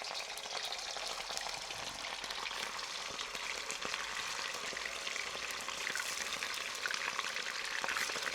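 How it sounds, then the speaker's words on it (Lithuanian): Carrots and meat sizzle and crackle in hot oil inside a kazan for plov, a loud, dense, continuous frying hiss close by with no talking. "O, įkaitęs, morkytės čirškė."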